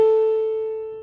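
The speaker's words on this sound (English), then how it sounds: "Here is the fundamental frequency of A on piano" A pure 440 Hz A tone heard as a single steady electronic pitch lasting about a second, clear and close, slowly fading before it stops.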